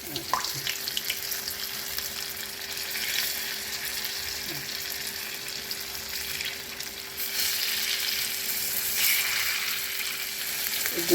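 Dahi bhalla batter frying in oil over medium heat, giving a steady, fairly loud broadband sizzle that continues throughout without speech and swells slightly toward the end.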